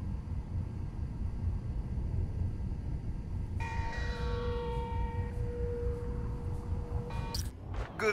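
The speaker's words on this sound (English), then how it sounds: "It's the bell that stands out." A church bell in the Spider-Man: Miles Morales video game rings once midway, a clear ringing tone that decays slowly over a low background rumble, followed by a brief bright clatter near the end.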